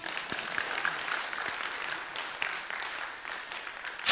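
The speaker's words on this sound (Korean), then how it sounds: "박수 안 칩니까?" A church congregation at a Friday prayer meeting applauds. Dense, steady clapping from many hands continues evenly throughout and sounds moderately distant in a large room.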